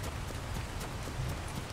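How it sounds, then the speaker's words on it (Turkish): Rain in the ARK Survival Evolved video game falls as a steady, faint hiss of drops spread evenly with no other sounds. "Ya yağmur. Bir git yağmur, bir git."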